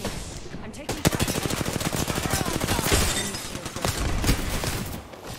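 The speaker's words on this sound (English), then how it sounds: "They spotted me. I'm taking fire." Rapid automatic gunfire in Apex Legends during a solo-queue match, a dense, loud stream of close shots rattling nonstop for about four seconds before trailing off, with no voices.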